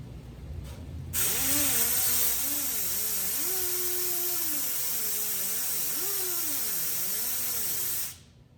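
A stick of fine polishing compound is pressed against a spinning buffing wheel, producing a steady motor whir with a hiss whose pitch wavers up and down as pressure changes, then the sound winds down and stops near the end.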